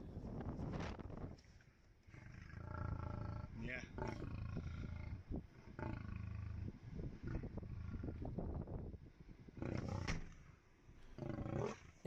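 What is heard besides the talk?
lion roaring at a safari jeep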